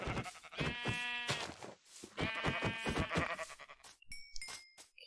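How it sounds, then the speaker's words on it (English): Sheep in the Minecraft video game bleat twice in long, wavering cries, followed by short clicks and bright game blips. "let's kill these sheep."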